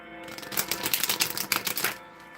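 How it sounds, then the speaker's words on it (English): Playing cards riffled together in a butterfly shuffle, a rapid run of crisp papery clicks and flutters that swells and fades over about two seconds, close and fairly loud, with no talk. "Okay, one more butterfly shuffle."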